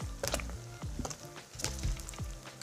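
Sprat fish fry in hot oil with a bubbling sizzle, punctuated by several sharp pops and crackles close up.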